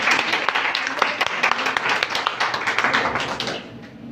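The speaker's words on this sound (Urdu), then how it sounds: "آپ کی بھرپور تالیوں میں" Audience clapping at a women's empowerment speech competition, a steady round of applause with crisp individual claps throughout that fades near the end.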